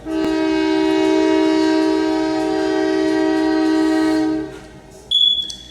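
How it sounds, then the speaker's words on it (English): A train horn blares loud and close in one long sustained blast, then cuts off, followed by a short high-pitched tone from the passing train. "I fucking hate this train, bro."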